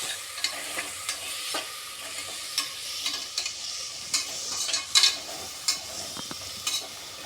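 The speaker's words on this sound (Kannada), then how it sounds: "ಇದನ್ನು ಫ್ರೈ ಮಾಡ್ಕೊಳ್ಳೋಣ" Food for bisibele bath fries in a pan on high flame, a steady close sizzle broken by repeated sharp scrapes and taps of a spatula stirring throughout.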